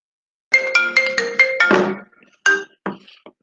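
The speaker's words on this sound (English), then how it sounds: "That was my phone, sorry." A mobile phone ringtone plays a bright, stepped electronic melody of rapid repeated notes, loud and close in a quiet meeting room, then breaks off into a few scattered tones.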